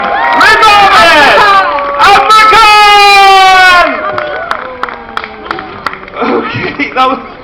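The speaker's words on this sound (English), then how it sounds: "Give round of applause to the Mayor of London!" Crowd applauding, cheering and whooping for the Mayor of London at a live public event, loud and dense for about four seconds before thinning into scattered claps and shouts, with voices calling out through it.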